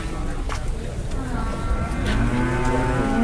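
Cattle low and moo repeatedly at a busy livestock market where two cows are up for sale, the calls loud and close, with rising sustained moos near the end over steady crowd murmur and talk.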